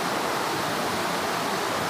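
Water running across a forest road in the Western Ghats, a steady broadband rushing wash like a small stream, close and continuous with no voices.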